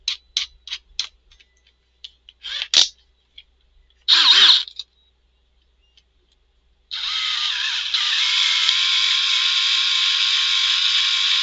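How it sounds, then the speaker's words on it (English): A small drill boring out and enlarging a hole in a plastic Hot Wheels Monster Jam toy truck, heard as a steady, close whirring drone that runs alone for several seconds after a few short clicks and handling bursts. "I've drilled out the hole a little bit bigger"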